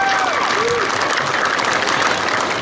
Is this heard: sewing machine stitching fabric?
no